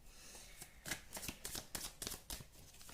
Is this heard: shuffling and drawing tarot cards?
yes